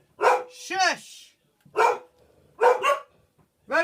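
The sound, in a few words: dogs barking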